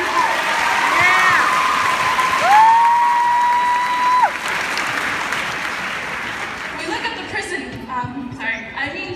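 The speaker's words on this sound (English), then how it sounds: "please remember to clap for yourself" Audience applause and cheering at a high school graduation ceremony, loud sustained clapping with whoops and a long whistle, thinning toward the end as scattered voices come through.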